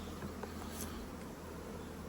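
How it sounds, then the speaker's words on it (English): Bees in a nuc box on the summer nectar flow give a steady, faint, even hum with no talk over it. "It's just a nice box of bees there."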